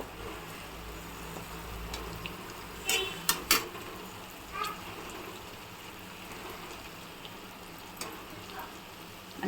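Bitter gourd pieces sizzle in hot oil in a pan: a quiet, steady hiss with a few sharp pops near the start, heard close up with no voices.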